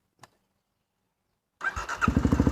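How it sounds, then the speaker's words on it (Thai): A Kawasaki D-Tracker motorcycle engine, just after fuel injector cleaning, cranks and fires after a brief click and a pause of silence, settling into a rapid, close, pulsing idle. "ทีนี้เราติดเครื่องกันดูก่อนว่าจะติดไหม หลังจากล้างครับ"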